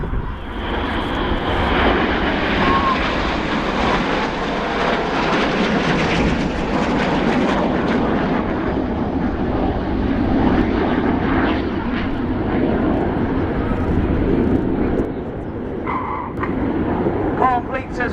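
Red Arrows jets at the 2017 Fairford airshow roar overhead in formation, a loud sustained engine roar over the whole stretch, with an announcer talking over it.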